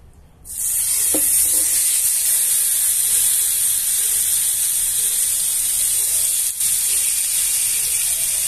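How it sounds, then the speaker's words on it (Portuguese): Pork ribs hit a hot pot greased with lard for searing before pressure cooking, starting with a sudden loud sizzle that holds as a steady, close, bright hiss, with one brief dip near the end. "Selar, deixar essa costela bem dourada, antes de levar para pressão."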